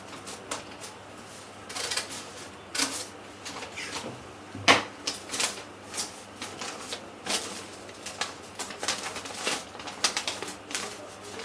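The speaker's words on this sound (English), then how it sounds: "I'm going to cut using my scissors, I'm going to cut 2 layers together" Fabric scissors snip through two layers of cloth along pattern lines for a dress, a quiet series of short crisp cuts and rustles at an uneven pace, close and faint.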